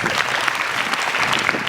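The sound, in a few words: audience applause welcoming chief guest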